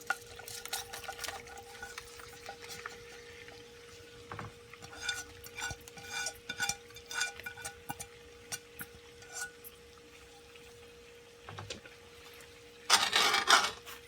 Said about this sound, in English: I'll let this fry up a little.